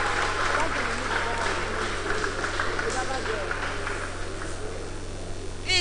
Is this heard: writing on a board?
no